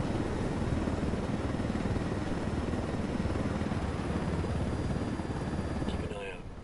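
A drone buzzes through a Ghost Recon video game mission in Bolivia, a loud, steady whirring drone that holds for about six seconds and then fades at the end.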